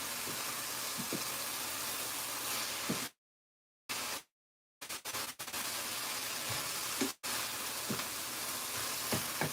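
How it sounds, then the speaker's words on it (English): Onions frying in a pan give a steady, dense sizzle, close and fairly loud, broken by a few abrupt dropouts to silence partway through, with no talking. "So you want your onion to fry out"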